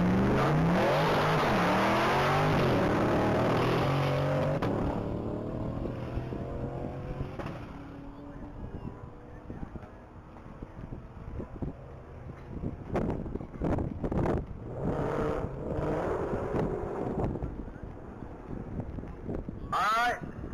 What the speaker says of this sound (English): currently on track is vehicle number 3. That's going to be a 21 Chevrolet Corvette piloted by Kevin Leonard